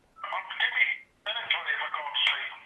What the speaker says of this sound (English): Mobile's ringing here.